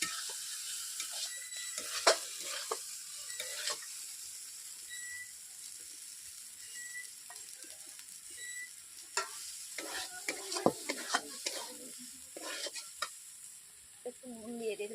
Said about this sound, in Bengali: মশলার সঙ্গে কষে নেবো।